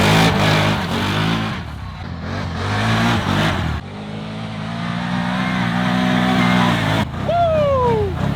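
A vehicle engine revving hard as it is driven over muddy ground, loud and close, with surging rises and falls in pitch and a sharp climbing whine near the end.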